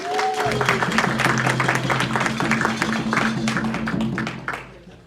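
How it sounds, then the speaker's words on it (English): Audience at the ILT conference clapping after a Git Hayetsk performance: a fairly close patter of hand claps over a sustained low hum, easing off toward the end. "Give yourselves a round of applause."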